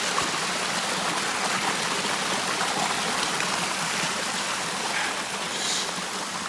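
Brook water in Newfoundland rushing steadily, a continuous broadband splash and gurgle heard close up, alone without speech.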